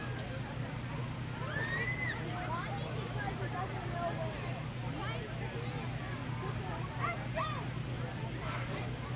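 A police K-9 dog during a detection demonstration whimpers and yips repeatedly at a moderate distance, under steady background noise and continuous talking.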